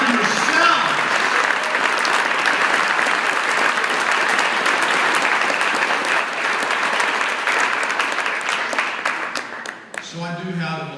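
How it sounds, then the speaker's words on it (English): Audience at a charity challenge opening ceremony breaks into loud, sustained applause that carries on dense and even before fading, with a voice starting to speak at the very end. "Yeah, you should applaud yourself."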